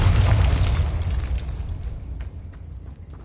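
Bombarda explosion spell in the video game Hogwarts Legacy: a single loud, deep boom that bursts at once and rumbles away over a few seconds, with faint crackling debris in the tail.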